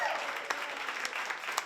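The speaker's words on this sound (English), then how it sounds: "can we please get a round of applause for the bartender" A small crowd at an evening civic discussion event in Idaho breaks into steady, lively applause, with clapping filling the short stretch throughout.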